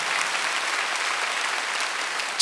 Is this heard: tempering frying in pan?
no